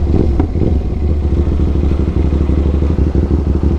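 A crossplane motorcycle engine at low RPM, loud and close, with a deep, steady, lumpy throb and uneven pulsing beats throughout, with no voices over it.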